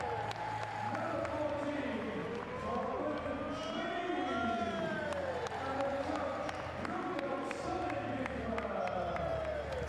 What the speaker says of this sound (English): His coach taking the applause of the crowd.